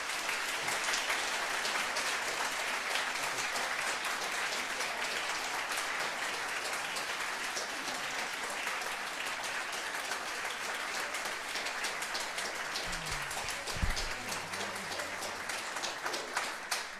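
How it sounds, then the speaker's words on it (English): A lecture audience at a NASA science talk claps steadily for a speaker, a long even wash of applause with a brief low thump near the end. "let us one more time give Amber a warm round of applause"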